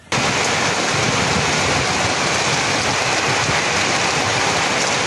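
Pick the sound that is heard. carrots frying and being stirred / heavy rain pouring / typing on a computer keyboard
heavy rain pouring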